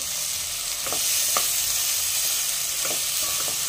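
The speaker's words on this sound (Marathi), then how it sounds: "आता टोमॅटो घालूया। एक टोमॅटो मी असा उभाच चिरलाय, हा एक छान परतून घ्यायचा" Chopped tomato sautés with onions in a pan for matar pulao, a constant close sizzle punctuated by several short spatula scrapes and taps as it is stirred.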